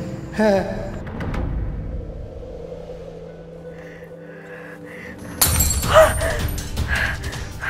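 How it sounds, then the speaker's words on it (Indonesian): A drinking glass breaks indoors with a sudden loud shatter partway through, followed by scattering debris, with low rumbling and voices around it. "Kamu sengaja mecahin gelas ini?"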